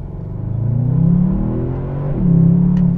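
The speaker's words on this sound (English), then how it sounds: "You can just take off with confidence in this car." A Bentley Continental GT V8 S accelerates hard, its V8 rising in a deep rumbling growl through a gear change, close and loud with no talk over it.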